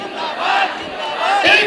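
Protest crowd at a contract workers' hunger strike chanting Inquilab Zindabad, a dense mass of voices shouting in unison, loud and close, with two surging pulses.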